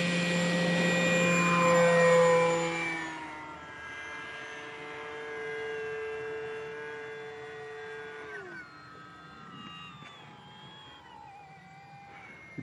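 Light aircraft engine, a Kavan Norden, during a short landing with reverse thrust: a loud tonal engine whine drops away after touchdown, then a lower hum steadies and falls in pitch as the plane slows to a stop.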